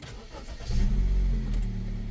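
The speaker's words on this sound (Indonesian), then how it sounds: "mau dengar suara mesinnya?" A 2019 Honda HR-V SE, a used car with about 30,000 km, cranks and starts, then settles into a steady, smooth idle close by, with no talk.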